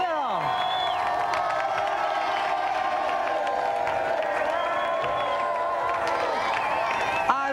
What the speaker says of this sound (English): And a round of applause again for Bruce, Dan and Sarah.